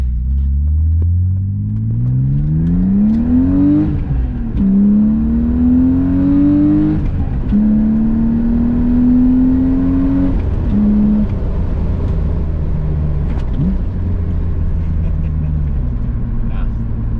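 A BMW E36 M3 engine revs hard and pulls through several gears, its loud, steady drone climbing in pitch, dropping at each shift and climbing again, with a deep rumble underneath.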